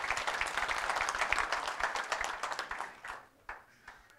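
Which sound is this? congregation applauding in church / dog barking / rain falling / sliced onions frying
congregation applauding in church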